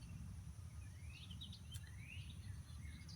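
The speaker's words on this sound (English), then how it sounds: "listening to these beautiful little birds." Small birds in a backyard give faint, scattered chirps and rising tweets over a quiet outdoor background with a steady insect-like hum, heard from a patio.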